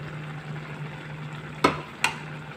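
A spoon stirs cooked pineapple with condensed milk in a pot, making two short scraping clinks against a quiet background hum.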